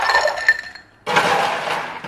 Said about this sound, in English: Next, we're just going to fill up the glass with ice.